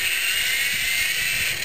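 A small three-channel remote-control toy helicopter flies close by, its rotors giving a steady, high-pitched whirring buzz that holds level and loud throughout with no voices.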